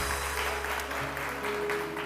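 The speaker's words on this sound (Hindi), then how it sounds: "सलमा आसिम के लिए बहुत सारी तालियां" A studio audience on a televised morning show applauds, a brief dense patter of clapping over a low steady studio hum, close and moderately loud.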